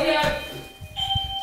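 A doorbell chime rings out, its tone fading, then a second chime sounds while a voice murmurs underneath.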